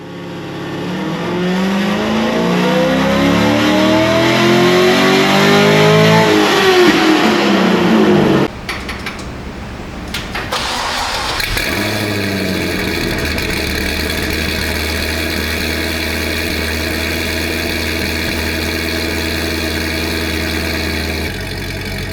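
A Corvette C6 V8 fitted with longtube headers cranks and fires up loudly, revving hard with a rising roar, then cuts briefly before settling into a deep, loud, steady idle.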